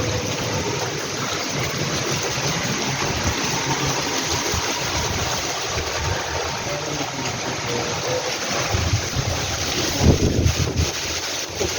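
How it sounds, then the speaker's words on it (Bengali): Strong storm wind gusts outdoors, a loud continuous roar buffeting the microphone and swelling in intensity toward the end. "ঝড়ের পরিস্থিতিটা দেখেছো কীভাবে ঝড় হচ্ছে"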